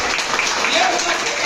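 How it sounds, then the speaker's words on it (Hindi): Loud, steady applause fills a seminar hall as a crowd claps for a speaker, dense and continuous with voices mixed in. "इनके जोरदार ताली होना चाहिए"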